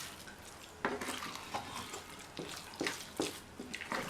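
Curd rice with salt being mixed in a bowl, soft wet squelching stirs and several sharp spoon knocks against the vessel in an uneven rhythm, close and quiet, with no speech.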